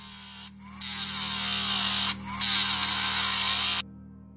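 A Dremel rotary power tool cuts into a model Yamato battleship wreck hull, a loud high-pitched whine in two long passes with a brief pause between, over a constant motor hum that stops abruptly.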